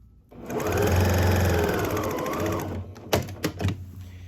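A sewing machine runs steadily for about two seconds, stitching a quilt seam on a store-bought quilt being made into a reversible casserole carrier, then slows and stops with a few short mechanical clunks and thumps.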